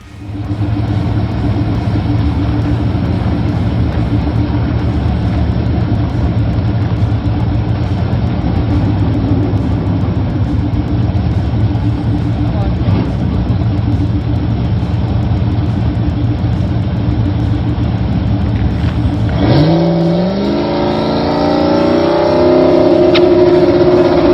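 A turbocharged Ford Coyote V8 car runs a long, loud, steady engine roar, then near the end its pitch sweeps sharply upward as it accelerates hard, with no voices.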